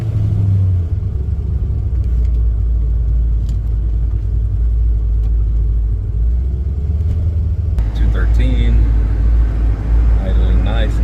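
A Pontiac GTO engine idles with a steady low rumble heard from inside the car, joined later by voices and light cabin noise.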